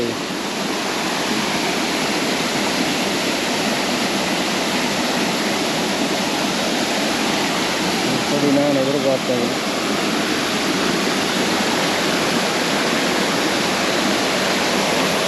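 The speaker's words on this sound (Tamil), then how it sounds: "ஒரு சின்ன அருவியோடு" A steady, close rush of a small waterfall in woodland near Reichenburg, Switzerland, fills the whole clip, with a brief voice speaking over it partway through.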